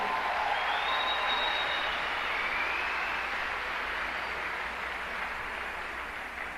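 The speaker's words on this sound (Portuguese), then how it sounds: "vocês aplaudem de novo para mostrar vocês bonitos para o Brasil" Audience applause at a Brazilian Catholic priest's gathering, a dense, steady roar of clapping from a large crowd that holds throughout and fades slightly at the end.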